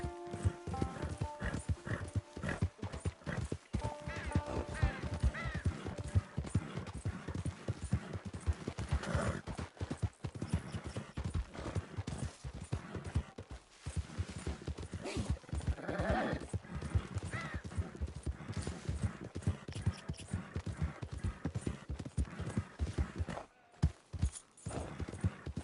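A horse's hooves clip-clopping at a steady walking rhythm in Red Dead Redemption 2, with an occasional whinny over a low game soundscape. The sound is continuous across the clip and moderately quiet.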